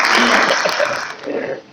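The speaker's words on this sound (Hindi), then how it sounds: "जोरदार तालियों से इसका स्वागत।" An audience at a government agricultural ceremony in India breaks into applause to welcome a speaker, a dense wash of clapping that fades within two seconds.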